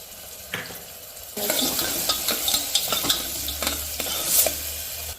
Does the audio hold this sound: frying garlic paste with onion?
yes